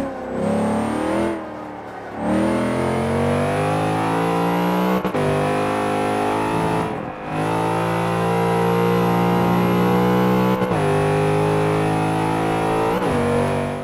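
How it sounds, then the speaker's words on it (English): A Cuda Hemi car in Forza 5 screams near the red line, its engine note holding high and steady, with brief drops at each gear change, loud and close throughout. "Perhaps over-revving this car a little bit"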